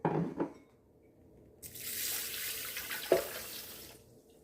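Water and grains of rice are poured into the pan of a bread machine. A steady pouring wash runs for about two and a half seconds, with a small knock in the middle and a few light taps before it starts.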